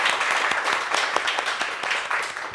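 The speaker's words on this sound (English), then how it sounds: "So give a round of applause for that." Audience applause at a breast cancer awareness event, a thinning round of clapping with individual claps standing out near and far.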